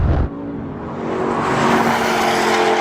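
A Porsche launches hard off the line in a drag race, its engine note rising steadily and loudly as it accelerates after a brief initial burst.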